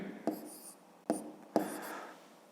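Pen writing numbers while working a math problem, three short close scratching strokes separated by brief pauses in a quiet room.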